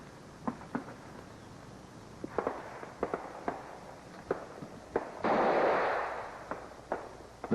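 Rifles firing during Canadian military field trials for a small arms replacement program: sharp, moderately distant cracks at irregular intervals, some in quick pairs, with a longer rushing blast partway through.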